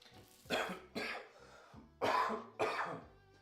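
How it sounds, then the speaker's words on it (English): Four harsh coughing bursts from a sick person in a workshop while painting Shaker style cabinet doors, spaced roughly half a second to a second apart, close and fairly loud with quiet gaps between. "Sorry for the coughing"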